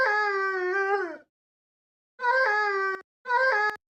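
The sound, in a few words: dog howling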